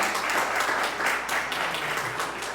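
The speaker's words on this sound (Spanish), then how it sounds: "¿Le puede dar un aplauso al Señor en esta mañana?" A church congregation at a Sunday morning service gives loud, close, dense applause that holds steady and eases slightly at the end.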